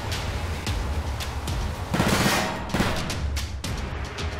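Gunfire in Garry's Mod DarkRP: a steady string of sharp gunshots with a louder burst of rapid fire in the middle, close and prominent, with no talking.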